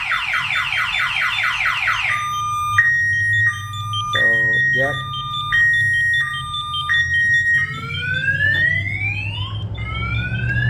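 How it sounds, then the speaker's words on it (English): A car alarm installed in a trailer blares loudly, cycling through siren patterns: rapid warbling chirps, then steady repeating tones, then rising sweeps, with someone speaking briefly over it. "Yeah, the alarm gone off pretty loud."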